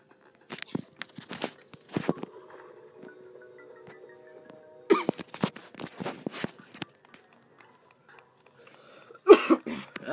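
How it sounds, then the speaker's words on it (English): Someone coughs and clears their throat in short, separate bursts: a few rough coughs, a pause with faint background tones, another cluster of coughs, then one sharp, louder cough near the end, close to the microphone. "I still have that cough, though."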